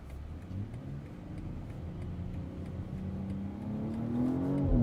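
2024 BMW X4 M40i accelerating through a corner, engine note heard from inside the cabin as a steady rising growl that climbs in pitch and loudness toward the end, with no talk.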